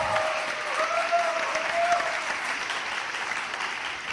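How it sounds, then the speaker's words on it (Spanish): Steady audience applause fills the room, a dense wash of many hands clapping at even loudness for a few seconds, with a faint tonal whistle or voice trace early on and no clear speech. "aplauso para Andrés Llena"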